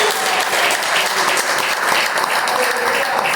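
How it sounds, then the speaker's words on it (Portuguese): A church congregation claps loudly and steadily throughout, a dense wash of many hands during a worship service, with faint voices mixed underneath. "Quem crê assim, bate palmas e glorifica o Senhor"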